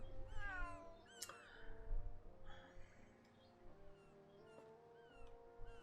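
A cat meows repeatedly in Atelier Ryza 3, a run of rising and falling calls over soft game background music with no speech.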